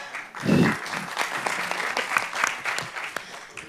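An audience bursts into applause at a public question session, with a dense clatter of clapping that starts strong and continues steadily over low room murmur, with no one speaking over it.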